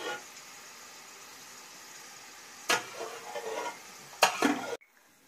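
Onions fry in hot oil with ginger and garlic, a steady sizzle with a few loud stirring clatters and scrapes of a utensil against the pan before the sound cuts off.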